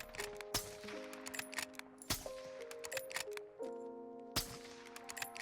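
An SPR sniper rifle fires in Call of Duty Warzone, with sharp, loud shots spaced irregularly against a game soundscape of sustained tonal music and lighter clicks.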